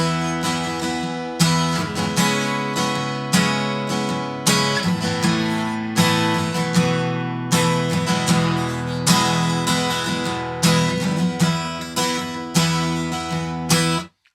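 Strummed E guitar chords ringing with open strings, struck repeatedly in a steady rhythm, each strum sustaining into the next; loud and close, no talking.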